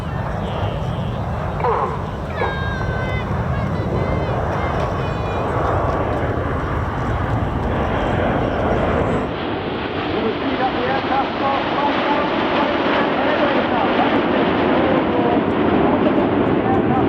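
Red Arrows jets fly past during the Bournemouth Air Festival display, a loud, sustained engine roar filling the whole stretch that shifts in tone partway through as the aircraft pass, with a commentator talking over it.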